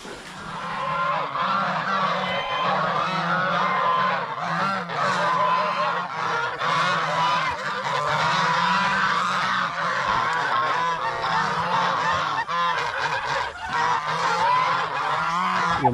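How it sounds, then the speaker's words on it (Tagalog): A dense, continuous chorus of loud gobbling and honking from many turkeys at once on a farm, close by, with no pause throughout. "Yung mga pabo namin dito mga kaprobinsya"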